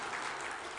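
Brief, soft burst of congregational clapping in a Korean church during a Sunday worship service, a steady wash of many hands.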